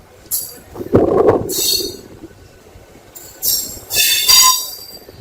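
An express train hauled by a WAP4 electric locomotive rumbles past close by, with metallic clanks and several loud bursts of high, shrill wheel squeal.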